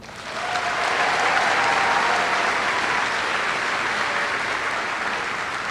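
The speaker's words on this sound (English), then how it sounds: "And please, a round of applause for the amazing class of 2021." A high school commencement crowd applauds the graduating class of 2021, swelling into a steady, broad roar of clapping that holds evenly without any talk.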